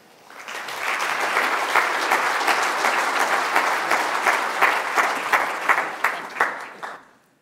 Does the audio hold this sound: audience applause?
yes